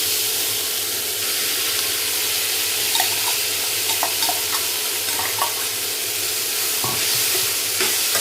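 Leftover morning rice and vegetables sizzle in a hot pan, with scattered spoon scrapes and clicks from stirring over a constant frying hiss.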